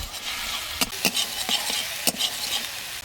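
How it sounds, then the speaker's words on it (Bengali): Onion, garlic and ginger paste frying in a wok, stirred with a utensil. A steady sizzle runs throughout, broken by several distinct scraping strokes at an uneven rhythm, heard close with no talking. "এবার খুব ভালোভাবে মশলাগুলো নাড়াচাড়া করে নিতে হবে"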